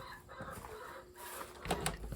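A hen clucks softly a few times, close by, in short throaty bursts over faint background noise.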